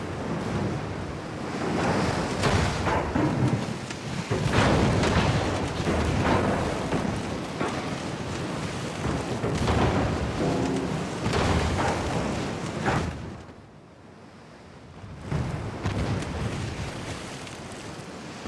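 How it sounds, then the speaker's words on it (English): Torpedo hits on a warship in the naval video game Ultimate Admiral: Dreadnoughts, heard as long rumbling roars and a churning, surf-like wash that swell and fade, with a brief lull near the end. "Oh, we have also been hit by a torpedo."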